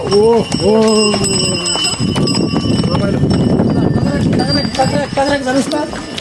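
Horse hooves clip-clop steadily along a mountain path in Mustang, Nepal, under loud, continuous talking, with a brief animal call near the start.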